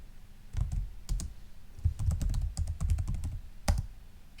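Keys clack on a computer keyboard while commands are entered in a terminal, with irregular close bursts of typing that pause briefly in between and no voices.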